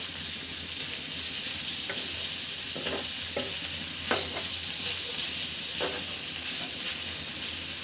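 Fish bharta stirred in a frying pan, a constant close sizzle with intermittent spatula scrapes and taps against the pan.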